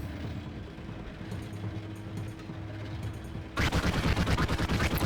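The Ripper gun in the video game Raze's Hell fires at a turret, starting midway as a loud, rapid rattling burst of repeated shots over a low droning game backdrop.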